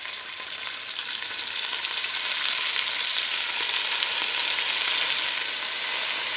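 A second batch of beef for a French casserole browns in a hot pan, giving a steady, bright sizzle and crackle that grows a little louder as the meat settles in, with no talking.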